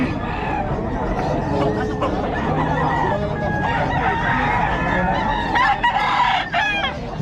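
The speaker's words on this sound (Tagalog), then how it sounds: "Ang manok oh." Chickens cluck and a rooster crows repeatedly, close by and loud amid the babble of people chatting at a busy market sale.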